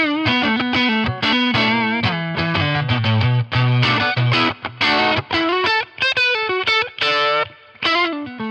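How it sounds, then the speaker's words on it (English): An electric guitar with single-coil pickups plays through a 5-watt amp with a slightly gritty, just-breaking-up tone, picking single notes and chords in a loose, bluesy phrase. "with single coils, you can definitely get great, clean, stratty, edge of breakup tones."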